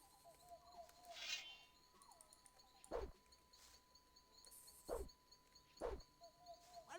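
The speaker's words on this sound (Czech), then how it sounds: "Slyším štěnici" Short squealing chirps from a meatbug creature in the Gothic video game sound three times at intervals over quiet ambient game sound and a steady hum.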